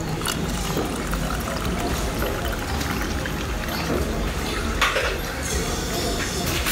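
Sprite poured into a soju cocktail, a continuous fizzy pour with a trickle of liquid and a few light clinks of glassware, close and moderately loud.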